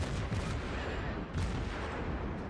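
Main guns of the Omaha, a tier 5 cruiser in World of Warships, fire continuously in dense, rumbling salvos, with sharper booms standing out near the start and in the middle. The sound stays loud and steady, and no voices are heard.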